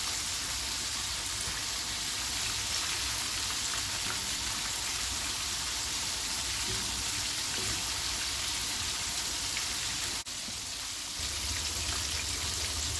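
Chicken pieces coated in spicy flour fry in hot oil with a dense, steady sizzle and crackle that holds at an even level throughout, briefly dipping near the end.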